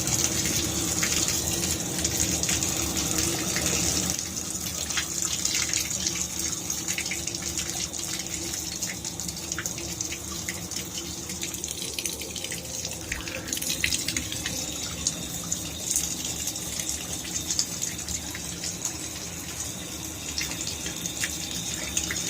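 A household faucet runs steadily, water gushing and splashing into a sink with a constant hiss that shifts slightly in tone partway through, with no talking.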